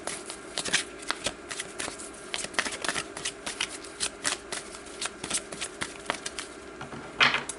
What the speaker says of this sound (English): So let's pull more cards